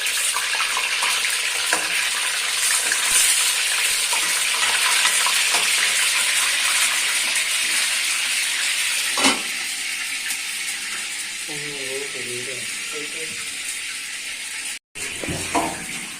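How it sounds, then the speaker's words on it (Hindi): Vegetables sizzling in a hot pan, a loud, steady close-up frying hiss running throughout, with a few stirring clatters and a brief dropout near the end. "और वेजिटेबल को भी फ्राई कर देते हैं, बस थोड़ा सा फ्राई करना है"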